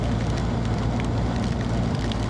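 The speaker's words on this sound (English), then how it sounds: "now we're in the dumping rain" Dense, steady hiss of heavy rain pouring down on the Blue Ridge Parkway, constant and loud, with a low rumble beneath it.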